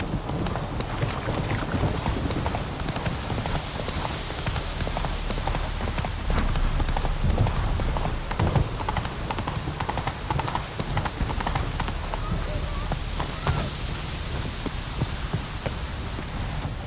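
Horse hooves clip-clop steadily in The Witcher 3 video game, a continuous close trotting rhythm over a dense rain-like wash of ambient sound, loud throughout with no clear speech.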